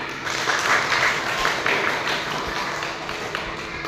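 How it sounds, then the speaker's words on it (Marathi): A classroom group claps for a correct quiz answer: a short, dense patter of applause that stays steady for a few seconds, with faint voices underneath. "टाळ्या वाजवा तुमच्यासाठी"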